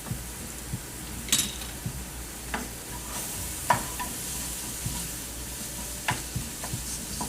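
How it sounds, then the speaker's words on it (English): A spoon stirs crab soup in a pot over low heat under a soft, steady sizzle and simmer. Occasional light scrapes and clinks against the pot come at irregular intervals, close and fairly quiet. "Stirring it occasionally."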